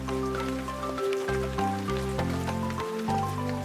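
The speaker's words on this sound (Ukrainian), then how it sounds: "Здається, дощ починається." Steady patter of rain beneath a bright musical melody, continuous throughout with no voices.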